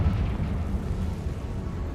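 A Confringo fire spell detonates in a Harry Potter video game, a loud, sustained low rumbling blast that fills the whole moment with deep roaring noise and no speech over it.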